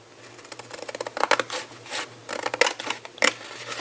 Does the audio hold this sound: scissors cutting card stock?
yes